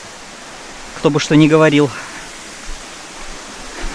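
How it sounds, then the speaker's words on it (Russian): A steady broadband rush of water from a small tourist waterfall in the Philippines fills the background, while a person briefly speaks over it near the start. "Не самый лучший водопад."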